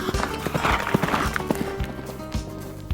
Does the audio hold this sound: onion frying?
no